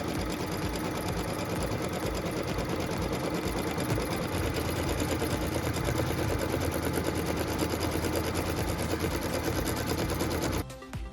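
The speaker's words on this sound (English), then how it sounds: "the first step is to stitch the batting placement line" A sewing machine, likely an embroidery machine working a quilt block, stitches a batting placement line in a loud, steady, rapid mechanical chatter, stopping abruptly near the end.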